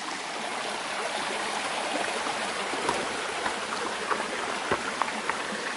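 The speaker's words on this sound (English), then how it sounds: "Here's the first creek in quite a while" A forest creek beside a hiking trail on the Pacific Crest Trail flows steadily with a broadband rushing babble, close and continuous, with a few faint clicks and ticks scattered over the water noise.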